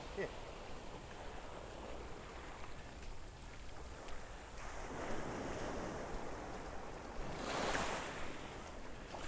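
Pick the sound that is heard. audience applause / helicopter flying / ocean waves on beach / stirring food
ocean waves on beach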